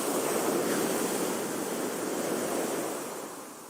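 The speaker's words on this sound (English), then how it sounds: "this is what that kind of swell sounds like." Ocean swell at sea, a steady broad wash of surf that stays full and continuous, easing slightly toward the end, with no voices.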